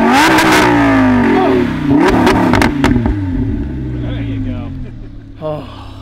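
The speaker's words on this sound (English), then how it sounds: "Give me a good rev." High-revving engine of a sports car, either a Ferrari California T or an Audi R8, roaring up in sharp rising sweeps and blips, loud and close, with people talking and exclaiming over it.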